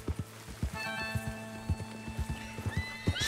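Horses in Red Dead Redemption 2 gallop in steady, close hoofbeats while sharp neighs and whinnies rise over them as they are herded, with no talk.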